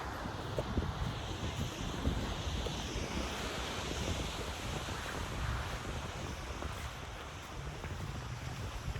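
Waves and wind on a beach, a continuous broadband rush of surf with gusty wind buffeting the microphone, fairly loud and steady with no voices.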